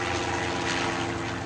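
A helicopter flies close overhead, a steady broadband engine and rotor drone that holds loud and even for the whole moment with no voices over it.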